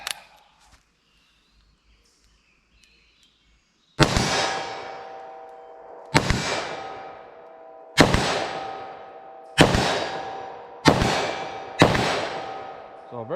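.327 Federal Magnum handgun fired at an outdoor range, six sharp loud shots spaced about two seconds apart, each with a ringing decay, after a few quiet seconds.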